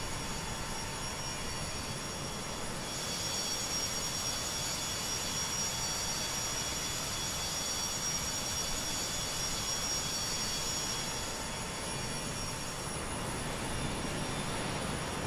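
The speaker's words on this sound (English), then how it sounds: "3 beautiful engines all running." Three Boeing 727 jet engines running steadily in a flight simulator game, a loud continuous whine and roar holding level for the whole stretch with a high tonal hum on top, no voices.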